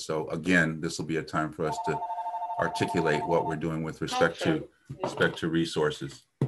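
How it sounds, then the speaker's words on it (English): A telephone rings in a meeting room during a community safety working group session, a steady electronic ring tone pulsing for about two seconds beneath a man's continuous speech. "Sorry about that phone ringing."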